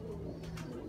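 A small group of four pigeons coos faintly and low, a brief soft warbling murmur without any voices.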